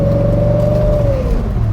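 An Audi S4 B7 on new BBS wheels, with bump steer, makes a full-lock turn. Its engine drones steadily and loudly from close by, with a thin whine that holds and then slowly fades.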